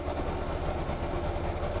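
Loud boat engines drone in the Stormworks video game, a steady dense rumble heavy in the low end that runs unbroken and close throughout, with no talking.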